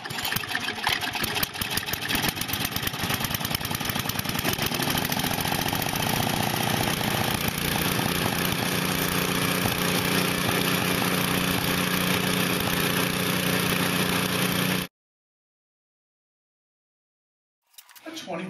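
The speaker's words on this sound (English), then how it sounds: "A 5-horsepower snowblower." A 5-horsepower snowblower engine roars steadily at close range for about fifteen seconds, then cuts off abruptly into silence before a faint noise returns.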